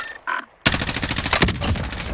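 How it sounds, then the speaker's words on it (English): Gunfire from Call of Duty Warzone: a short burst, a brief pause, then a loud, sustained rapid volley of automatic fire lasting about a second and a half. "I know he's shooting at you."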